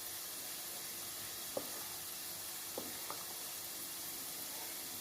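Albanian-style liver frying in a pan gives a faint, steady sizzle, with a few soft clicks as it is stirred.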